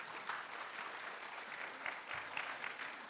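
A church congregation claps steadily for a few seconds, a dense even wash of applause at moderate level with occasional louder claps.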